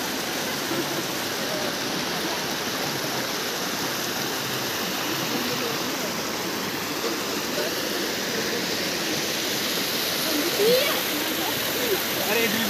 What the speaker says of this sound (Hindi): अभी आगे दिखाता हूँ वो झरना आपको